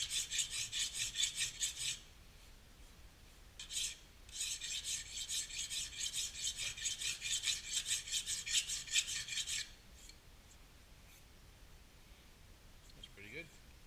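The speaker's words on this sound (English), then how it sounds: "you can actually finish with smaller files, triangular file, and get a nice" Steady rasping strokes of a small triangular file on metal, in a quick even rhythm with brief pauses, close and fairly faint.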